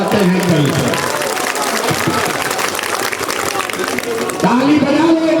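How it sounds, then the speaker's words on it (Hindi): Crowd at a Jan Suraaj Party political rally in Parsa, Bihar clapping steadily throughout, a dense loud wash of applause with a voice speaking over it at the start and again near the end. "अब बजा लीजिए ताली"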